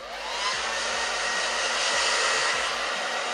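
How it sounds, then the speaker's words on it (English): A hair dryer blows hair dry with a steady, loud, continuous rushing whoosh that holds without a break, close to the microphone. "So the only other thing I really need to do is blow dry it."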